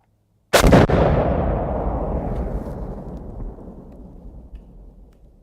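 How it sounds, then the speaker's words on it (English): A single huge fiery explosion with a mushroom cloud detonates with a sharp, loud blast, then a deep rumbling roar rolls on and slowly fades over several seconds, with no voices. "I had to get a nice fiery explosion in there"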